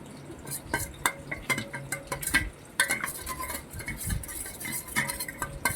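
Sauces and a spoonful of vinegar for chilli chicken are stirred together with a spoon against a metal pan, making rapid, close, clinking scrapes over a faint sizzle.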